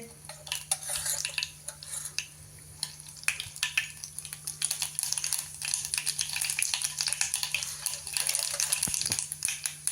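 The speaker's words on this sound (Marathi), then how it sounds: "मोहरी तडतडली की जिरं घालायचं आहे" Mustard seeds spluttering in hot oil in a kadhai: a dense run of sharp crackles and pops that crowd together over a steady low hum, loud and close, with no talking.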